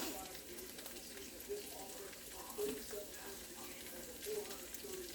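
Onions hiss and sizzle over crisping hashbrowns in a hot pan, a soft, steady frying crackle with faint clinks and stirring noises, fairly quiet throughout.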